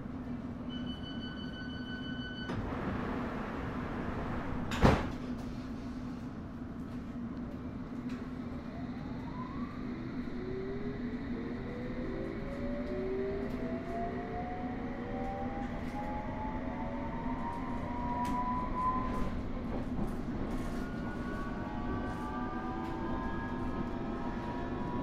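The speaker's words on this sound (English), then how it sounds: "This is a District Line train to Wimbledon." A London Underground District line S7 stock train (Bombardier Movia) runs near Wimbledon with a steady low rumble. Its traction motors whine in rising tones, and a sharp clank breaks in early on.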